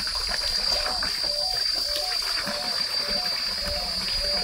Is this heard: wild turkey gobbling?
no